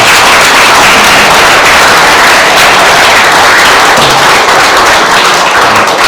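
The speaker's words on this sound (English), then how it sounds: "please give them a big round of applause" Audience at an annual meeting applauding the organization's staff, a dense, steady wash of many hands clapping close and loud for about six seconds, with no talk over it.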